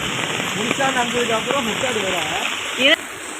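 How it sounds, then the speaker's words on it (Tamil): Heavy rain falling in Chennai during Cyclone Fengal, a steady dense hiss of downpour with voices talking over it throughout. "மழை நிற்க மாட்டேங்குது"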